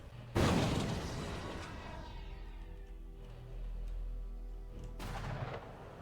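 A missile launch in the strategy video game ICBM: Escalation bursts out as a loud, sudden boom that settles into a long rumbling roar, then a second sharp blast hits near the end.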